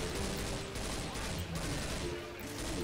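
Heavy, continuous gunfire from the video game Left 4 Dead forms a dense, loud wall of shots, with game sounds and faint voices mixed underneath.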